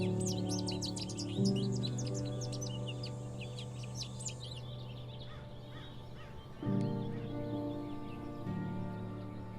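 Assorted wild birds chirp and trill in rapid bursts through the first half, set against a steady low hum, with calls growing sparse and faint later.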